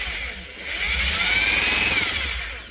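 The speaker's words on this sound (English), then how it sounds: "this is just a polishing wheel. We just shove some polishing compound on it." A polishing wheel loaded with compound whines against a vintage machinist's vise, a steady high-pitched motor hum that swells and fades over a couple of seconds.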